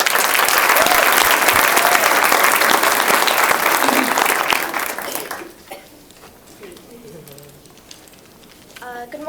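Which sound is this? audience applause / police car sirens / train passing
audience applause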